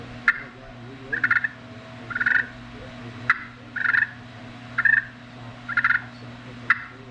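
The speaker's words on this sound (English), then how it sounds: "cluck and purr" Clucks and rolling purrs worked on a custom aluminum-over-slate pot turkey call, a string of short scratchy bursts at a steady rhythm, close and clear over a faint low background hum.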